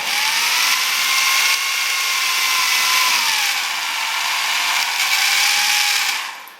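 A dull, faulty power drill grinds steadily through material, a loud continuous whine that dips slightly in pitch midway before cutting off at the end.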